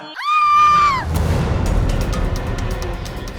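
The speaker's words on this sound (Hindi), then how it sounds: "ये किसकी चीख थी?" A woman lets out a single loud, high, sustained scream lasting under a second, followed by a dull rumbling background during a party.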